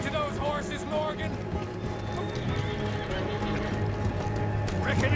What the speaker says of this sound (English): Let's get to those horses, Morgan.